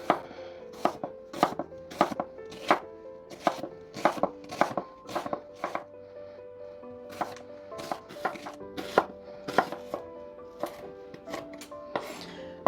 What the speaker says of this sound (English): here I have an onion, and then I'm just going to chop it up